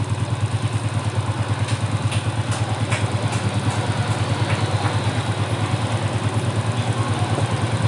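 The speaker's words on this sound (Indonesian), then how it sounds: "Nih kalian bisa dengarkan sendiri suara mesinnya" A motorcycle engine idles close by with a steady, rapid low thumping pulse and a light mechanical clatter on top, unbroken for about eight seconds, no talking.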